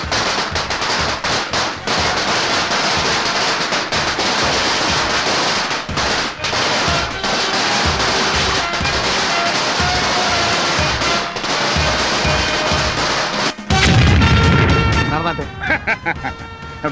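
A long string of firecrackers bursts in rapid crackling volleys, loud and close, continuing almost without pause, with a heavier boom near the end followed by scattered pops.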